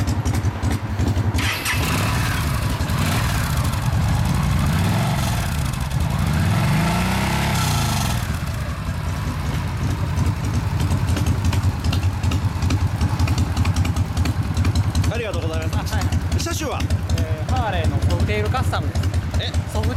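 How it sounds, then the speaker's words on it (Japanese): A 2012 Harley-Davidson FXSTC Softail Custom 1340cc engine cranks and starts, then settles into a steady, loud idle with a deep rumble, while people talk nearby. "ちょっとエンジンかけてもらっていいですか。"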